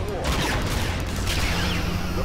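Starship weapons fire in the Star Trek Legacy space battle game, a dense, loud burst of rapid blasts and booms that continues through the whole moment, with a voice partly under it.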